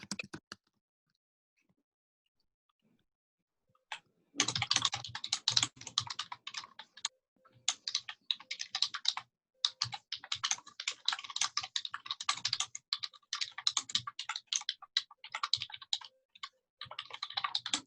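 Clicks from a computer keyboard during an online board meeting, quick irregular bursts of taps close to the mic, starting after a near-silent gap and carrying on with brief pauses, no voices.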